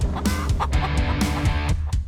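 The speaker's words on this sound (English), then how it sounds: "Is that a chicken? It's a chicken with the horses." A chicken near horses clucks in quick repeated bursts over a steady outdoor rumble, fairly close and clear, with no talking.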